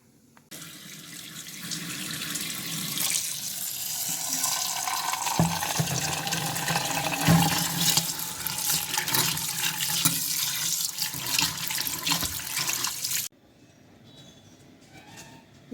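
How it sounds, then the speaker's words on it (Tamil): Peanuts are washed under a running tap, a steady rushing stream of water splashing into a container for about thirteen seconds before cutting off to near quiet. "முதல்ல இதை நம்ம தண்ணியில் வாஷ் பண்ணி காய போட்டுடலாம்"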